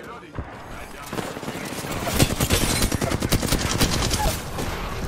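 Rapid video-game gunfire in a frantic multiplayer battle royale match, bursts of automatic shots crackling densely for several seconds with a voice talking over the action.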